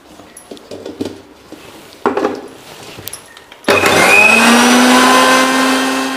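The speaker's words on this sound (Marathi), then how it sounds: "तांदूळ आणि उडदाची डाळ आपण प्रथम दळून घेऊया" A kitchen mixer grinder roars loudly and continuously as it grinds soaked rice, urad dal and poha for idli batter, starting abruptly after a few quiet clatters and knocks.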